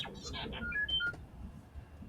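A Star Trek-style phone text tone: a quick run of bright electronic chirps and beeps, clear and close, following a brief bit of speech at the start.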